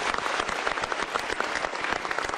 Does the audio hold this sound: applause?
yes